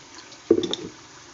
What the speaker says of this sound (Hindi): थोड़ा थोड़ा पानी हम यहाँ पे ऐड करेंगे